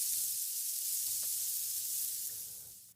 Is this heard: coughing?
no